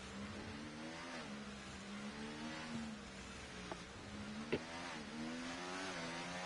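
A race car engine in a racing video game league event at Miami drones steadily, its pitch rising and falling as the car accelerates and struggles for traction, with a couple of brief clicks along the way.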